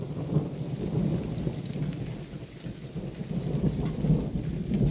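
A thunderstorm with steady heavy rain on the surroundings of a farm, low rolling thunder rumbling beneath a constant wash of rainfall, fairly loud and close, with no talking.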